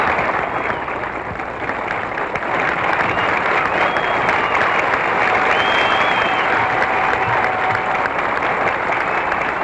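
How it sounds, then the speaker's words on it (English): Golf gallery applause at the 17th green of the 1971 U.S. Open final round after Jack Nicklaus taps in for par, a loud, continuous roar of clapping and cheering that swells slightly and holds for the whole stretch. "Listen to this applause."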